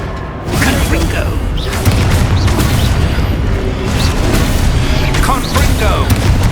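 Confringo blasting-curse explosions in Hogwarts Legacy: loud, continuous booming blasts and crackling bursts layered over game combat noise, with a voice shouting spell names throughout.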